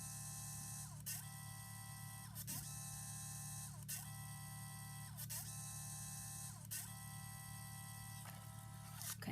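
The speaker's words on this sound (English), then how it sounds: "It's calibrating the printer now." An HP Sprocket photo printer runs its calibration cycle, a close, steady mechanical whir broken by regular clicking-whooshing strokes about every second and a half, with no talking.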